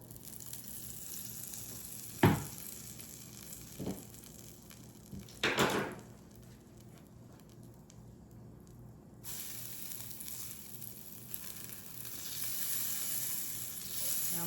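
Butter and olive oil sizzle softly in a skillet, a steady low hiss broken by a few sharp clatters and brief bursts early on before the frying settles into a gentle continuous crackle, with no talking.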